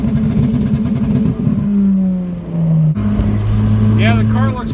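A car engine revs hard and stutters against its rev limiter, a loud close droning roar whose pitch climbs, then falls away and rises again, with people talking around it.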